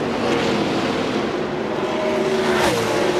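NASCAR stock cars racing at the 2002 Carolina Dodge Dealers 400, a steady loud roar of V8 engines from a distance, with one car's pitch rising and falling as it passes near the end.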